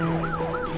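Ambulance siren wailing in rising and falling sweeps, loud and close over steady traffic rumble, with no one speaking.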